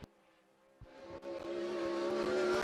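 A 410 sprint car racing around the speedway during qualifying, after a quiet start its engine roars in and rises into a loud, sustained, climbing drone as the car speeds up.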